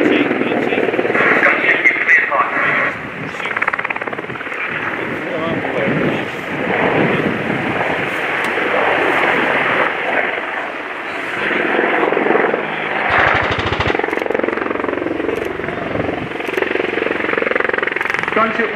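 Two Apache AH1 attack helicopters fly a display demonstration at an airshow, their rotor and engine roar loud and sustained throughout, with wind buffeting and a commentator talking over it.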